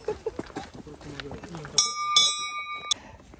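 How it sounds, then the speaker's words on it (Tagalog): Voices chatter briefly, then a bright metallic bear bell rings out a few times at Taisho Pond, Japan, its clear tone lingering between strikes. "So we ring the bell."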